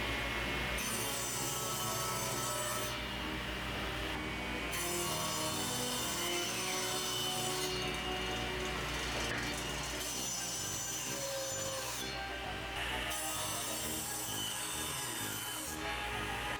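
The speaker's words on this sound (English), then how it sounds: "After cutting the pieces to length, I use the table saw to trim them to the right width" Table saw trimming pallet board pieces to width, a steady loud whine of the blade with rasping wood cuts in repeated passes, no talking.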